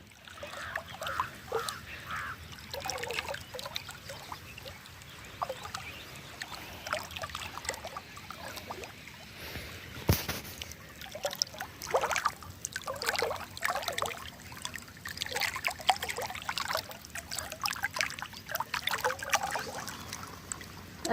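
Irrigation water from a motor pump gurgles and splashes continuously through a channel in a farm field with groundnut, garlic and leafy greens, a busy, moderately loud bubbling with one sharp knock midway.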